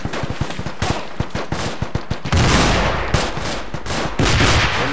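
Gunfire and a frag grenade blast in a military game set in Sangin: a rapid string of sharp shots, then a loud, broad explosive burst at about two seconds, followed by more heavy fire.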